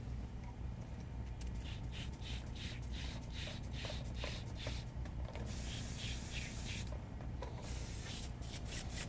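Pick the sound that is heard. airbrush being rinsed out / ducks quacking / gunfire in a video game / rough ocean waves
airbrush being rinsed out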